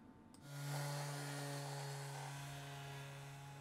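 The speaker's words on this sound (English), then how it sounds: "We'll use an orbital sander to make light work of finishing this top face" An orbital sander runs steadily across an epoxy resin river table top, finishing the surface with grits from 80 up to 1200; a constant close whirring drone starts after a brief pause and holds unbroken to the end.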